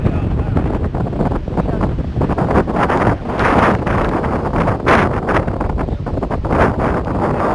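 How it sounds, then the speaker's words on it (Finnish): Strong wind buffets the microphone outdoors on a boat, a steady loud broadband rumble with gusty surges throughout and no clear voices. "Tuuli puhas vähän pahasti."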